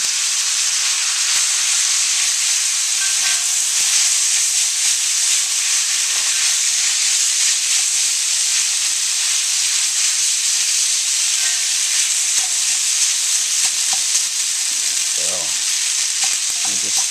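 Instant ramen noodles stir frying in a wok with sliced scallions and shrimp, a loud, steady sizzle and hiss throughout, with occasional scraping stir strokes near the end.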